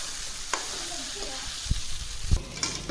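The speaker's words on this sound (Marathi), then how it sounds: "पोहे भिजवलेले आता ह्याच्यामध्ये पूर्ण टाकून घेणार मिक्स करून घेणार" Soaked poha stirred in a frying pan over a soft background sizzle, with a few scraping knocks of the spoon against the pan, close up and without talk.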